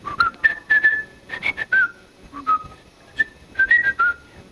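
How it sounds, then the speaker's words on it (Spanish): A person whistles a tune alone, clear close phrases of sustained and sliding notes broken by short pauses, steady and unaccompanied. "ese silbado, silbidos tiene una connotación especial"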